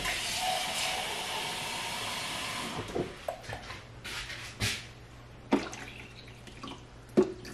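Water runs steadily into a coffee maker's reservoir for a few seconds, then stops, followed by scattered clicks, taps and small knocks of handling nearby.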